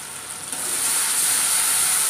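Tengra fish frying in a pan with cumin, coriander and red chilli powder being mixed in, a steady hissing sizzle that swells and stays loud and close, no talking.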